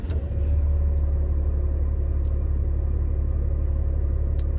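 Low engine rumble of a 2023 Ram 5500 service truck with crane driving, steady and close, with road noise and a few faint clicks.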